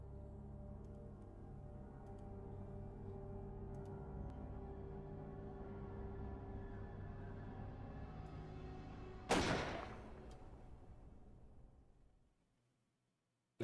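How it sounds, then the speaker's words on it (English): A single loud gunshot from the video game Resident Evil 1 bursts out over a low droning game soundtrack, then rings away as the background cuts to silence. "that gunshot nearly blew out my eardrums"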